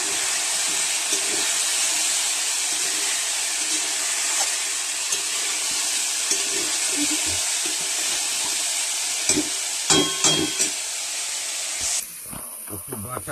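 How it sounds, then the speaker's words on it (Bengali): Dry ground spices frying in a pan with mustard paste and ginger, for a banana blossom curry with prawns. A steady close hiss and sizzle runs throughout, with stirring clatter near the end. "কষতে থাকবো আরও 2-1 মিনিট শুকনো মশলাগুলোকে"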